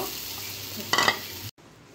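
Masala for an egg korma sizzles in hot oil in a pan, a steady frying hiss with a short burst of stirring scrapes before it cuts off.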